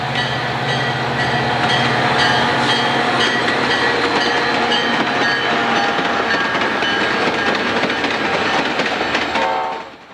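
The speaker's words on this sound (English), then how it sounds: "Amtrak's City of New Orleans arrives at Centralia" An Amtrak City of New Orleans passenger train pulls into Centralia station on its northbound run to Chicago, with steady loud rumbling and rhythmic clickety-clack of railcars over the rails, plus faint horn tones, fading near the end.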